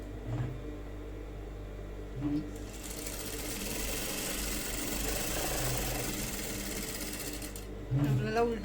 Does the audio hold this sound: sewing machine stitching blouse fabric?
yes